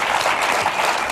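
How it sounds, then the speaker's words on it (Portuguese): A dense, loud round of applause from a studio audience on a Portuguese late-night talk show, cheering for the city of Viana, sustained and even throughout. "Uma salva de palmas para Viana!"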